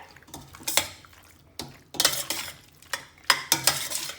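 Pasta being stirred into sauce in a frying pan for jerk shrimp rasta pasta, with a few separate bursts of scraping and wet clatter spaced over several seconds, close and moderately loud, with no talk.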